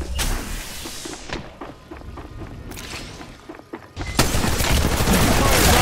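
Gunfire in the video game Apex Legends, rapid bursts of shots with thuds and quieter gaps, then a loud dense barrage near the end.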